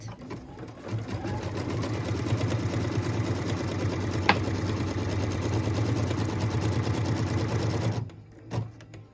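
Sewing machine stitching a quilt tack-down line, running steadily and close for about eight seconds with a rapid even whir, then stopping, followed by a brief final burst.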